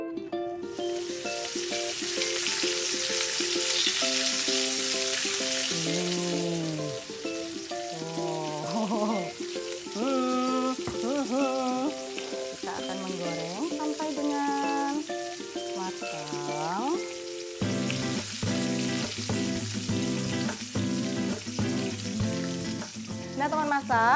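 Fuyung hai omelette frying in very hot oil makes a broad, hissing sizzle, strongest at the start and again near the end, running beneath loud background music throughout.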